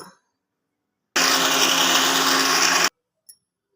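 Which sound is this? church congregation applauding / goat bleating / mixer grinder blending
mixer grinder blending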